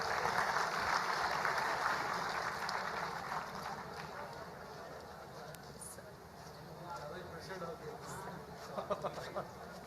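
Audience applause at an annual skill convocation ceremony, a sustained crowd of hands clapping at moderate distance, gradually thinning with a few stray louder claps near the end.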